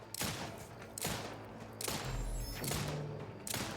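Gunfire in The Outer Worlds 2 on very hard difficulty, loud bursts of shots in several clusters with thumps and ringing tails, close and punchy.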